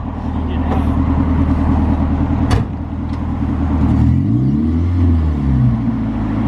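A car stuck in place revs its engine as it tries to drive off, the loud motor drone rising and falling with wheel spin, while people talk over it.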